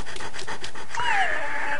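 A dog pants in the Wii horror game Ju-On, several quick breathy pants in a row, then a rising whine-like tone, heard close and clear.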